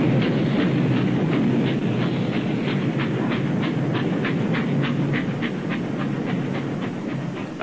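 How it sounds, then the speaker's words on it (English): Loaded ore train trucks at a 1950s steelworks rolling along the rails, a steady loud rumble with a regular clickety-clack of wheels over joints throughout. "And then into the ore train, at the pressing of a button."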